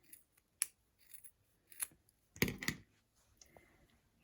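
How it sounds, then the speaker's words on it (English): Scissors snip through ribbon ends at an angle, about five sharp cuts spaced irregularly across a few quiet seconds, close and alone for a sewn Christmas wreath ornament. "Just snip these at an angle to make them"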